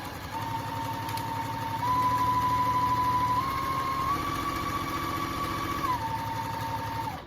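A sewing machine stitches two layers of fabric for a bowl cover, giving a steady close motor whir that rises slightly in pitch midway and runs continuously for several seconds before slowing at the end, with no talking.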